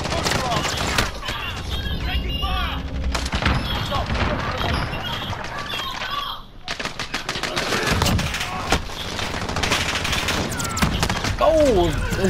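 Gunfire in the video game Warzone, rapid bursts of automatic fire and scattered shots crackling through a busy battle mix while players talk over it.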